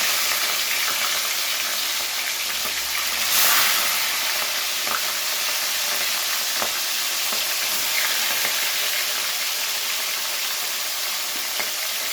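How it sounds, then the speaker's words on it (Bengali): Pieces of rohu fish fry in hot salted oil in a wok, a steady close sizzle and crackle that runs continuously with small spits and pops, no voices. "তো অর্ধেক অর্ধেক করে মাছগুলো ভেজে নেব, একবারে পুরোটা দিলাম না, হাফ হাফ করে ভাজবো।"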